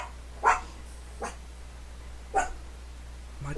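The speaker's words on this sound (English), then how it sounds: "My dog just scared the hell out of me." A dog gives a few faint, widely spaced barks and yips from across a quiet room, with no talk over them.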